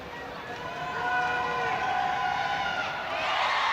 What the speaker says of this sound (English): while the Tide fans are trying to distract Dwyer, the fans of the Rain are cheering her on